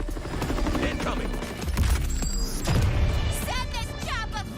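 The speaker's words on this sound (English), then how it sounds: "Set this chopper flying!" A helicopter flies amid combat in a video game trailer, its rotor noise churning under loud explosions and gunfire, with bursts of rising whooshes and sweeping mechanical tones near the end.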